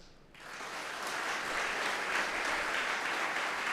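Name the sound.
audience clapping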